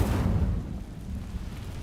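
The Incendio fire spell sets dry vines alight in the Hogwarts Legacy video game, bursting with a loud whooshing flare that settles into a rumbling, crackling burn.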